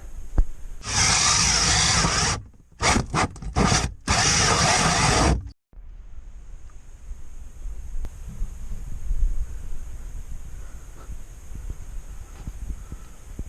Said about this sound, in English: Now I could just put like a hole saw, a few hole saws in there, one on each corner and one in the middle